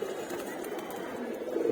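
Pigeons cooing in a loft, soft low rolling coos repeating throughout, close but quiet, under faint background noise.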